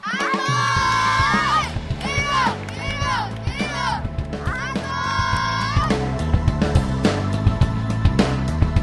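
A group of children shriek and cheer loudly together, and then a burst of scattered claps follows, sounding close and lively.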